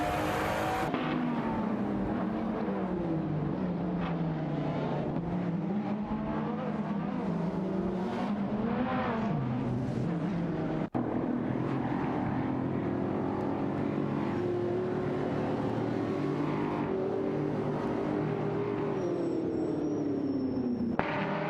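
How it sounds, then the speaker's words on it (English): Race cars in an AI racing video game, including a Nissan 370Z Nismo and a Ford GT, roar steadily at close range, their engine pitch rising and falling through gear changes with no one talking. "Titulino in the Nissan 370Z Nismo and MD162 in the Ford GT05 are locked in a battle for the 20th position"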